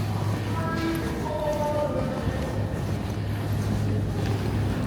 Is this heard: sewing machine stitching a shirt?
no